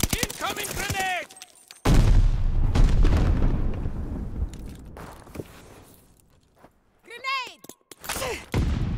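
Grenade explosion in the shooter game Call of Duty: Vanguard, a heavy booming blast with rumbling debris that fades out, among gunfire and footsteps, with game voice lines shouting before and after.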